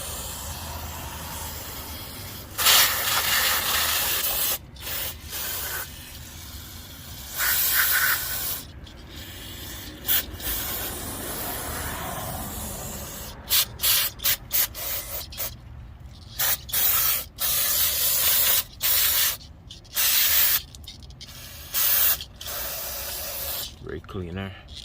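Brake cleaner sprays in a series of sharp hissing bursts onto a motorcycle's rear brake, some long and some short, with pauses between them and someone talking at times.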